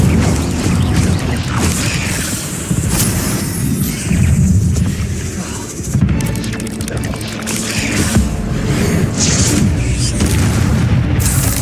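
Fire spells boom and crackle in a Hogwarts Legacy duel, loud dense blasts and whooshes layered with game combat effects and a shouted voice.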